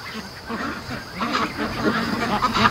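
Free range ducks murmur and quack softly at close range, a loose ongoing chatter that grows a little busier toward the end, with no clear voices over it.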